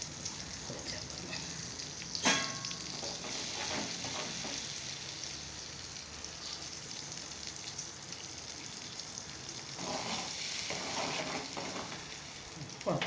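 Steady sizzling of chutney lightly frying in a pan, with occasional scraping and stirring sounds and a brief clink near the start.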